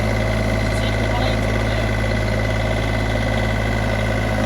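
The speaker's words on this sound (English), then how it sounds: "just taking the mower off the trailer" A lawn mower engine idles with a steady, loud drone and a constant low rumble while the mower is taken off a trailer.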